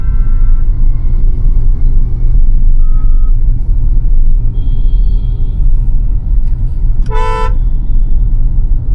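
A beginner's car creeping slowly in second gear along an Indian road, a steady low engine rumble throughout, broken near the end by one short horn toot.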